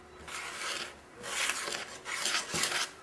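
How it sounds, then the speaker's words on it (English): A whisk stirred through dry ingredients and flour in a bowl for Pfeffernusse, making rhythmic bursts of soft scraping and rustling, four quick strokes close by with no talk. "I'm just going to use a whisk because that's a bit easier than to just use a big spoon."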